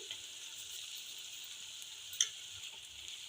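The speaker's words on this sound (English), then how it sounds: "you should fry them until the oil oozes out in the corner" Mutton with ginger garlic paste, turmeric and salt fries in oil for a dhaba-style bhuna gosht, giving a soft steady sizzle with faint stirring scrapes and one brief tick, close and quiet.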